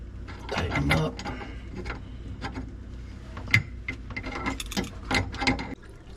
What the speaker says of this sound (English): Alright, use my little crescent wrench. Tighten them up.